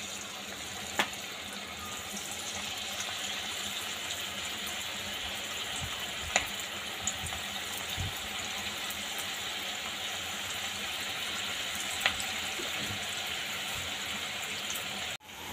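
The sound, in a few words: veg manchurian balls deep frying in hot oil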